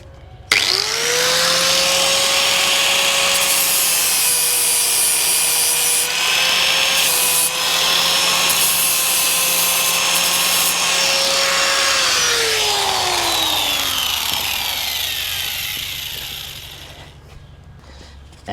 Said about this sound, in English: We'll just swap to a 60 grit flat disc to just cut off the rest of those welds or grind down the rest of those welds.